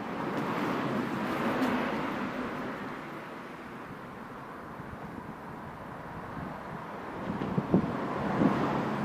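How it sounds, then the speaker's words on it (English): Steady outdoor wind buffeting the microphone during a DIY car oil change, a continuous low rumbling roar with a few gusts, no voices. "the wind literally blew the oil all over the place"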